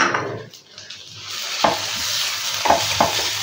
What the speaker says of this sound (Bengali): এবার এর মধ্যে নারকেল কোড়াটা দিয়ে দেবো, দিয়ে আরও একটু নাড়াচাড়া করতে হবে।